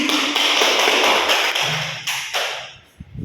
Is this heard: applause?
yes